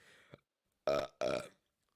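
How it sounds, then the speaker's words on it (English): Two loud, close burps in quick succession, each deep and rasping with a short gap between them, heard during commentary on the 1990 WrestleMania VI broadcast. "Second burp of many."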